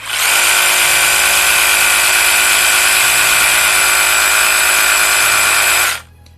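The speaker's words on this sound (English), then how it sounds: "Let's turn this one on and let's see how much blade wobble we got, and let's kind of see how loud this is as well." A Ryobi 18V one-handed reciprocating saw runs steadily at full speed for about six seconds, a loud, even high-pitched motor whine with a buzzing blade stroke, then cuts off abruptly.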